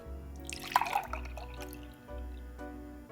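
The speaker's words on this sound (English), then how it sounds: "I'm gonna pour him a glass of milk." Whole milk is poured into a glass, a short splashing, gurgling pour that quickly gives way to faint trickles and drips, close and quiet over a low background hum.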